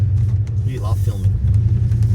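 Ford Fairmont XC GXL pulling out of a roadside rest area, a steady low engine rumble with road noise throughout, while a person talks briefly over it midway.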